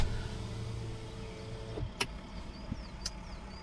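A car pulls up in a car park, its engine humming low and close before settling, followed by a few sharp clicks and mechanical clunks, with no talk.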